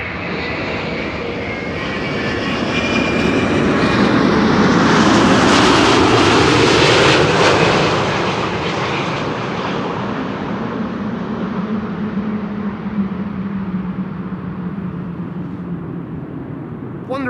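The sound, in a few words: airliner landing at Amsterdam Schiphol Airport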